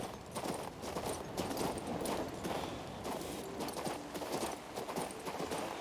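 Horse hooves clip-clop steadily in the video game Kings Bounty 2, a continuous walking rhythm of soft, fairly quiet footfalls over a dense background.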